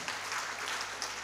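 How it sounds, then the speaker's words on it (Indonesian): Applause at a PGRI installation ceremony in Malang Regency for the branch chairman, a short dense burst of many hands clapping at a steady, fairly loud level. "Tepuk tangan untuk ketua cabang"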